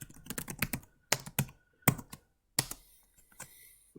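Keys clack on a computer keyboard in quick bursts separated by short pauses, close and distinct with no speech.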